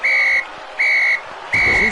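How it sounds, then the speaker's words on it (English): A whistle blown three times in even, sustained shrill blasts, each about half a second long with short pauses between, loud and close, with a little background noise under the final blast. "I'm blowing the whistle."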